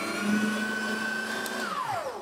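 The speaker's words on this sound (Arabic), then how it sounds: "هي دي بقت مفرمه اللحمه" Sokany electric meat grinder running, a steady close motor whine with a sustained pitched hum that drops away as it winds down near the end.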